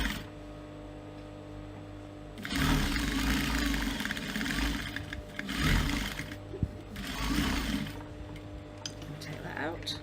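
A sewing machine without a zigzag stitch runs in two bursts while stitching a clutch purse, its steady motor whir starting and stopping close by.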